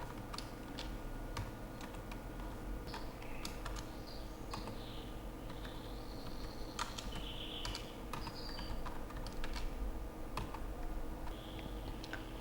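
Questionnaire data being typed into a computer keyboard, a steady run of quiet, close key clicks tapping at an irregular pace over a low background hum.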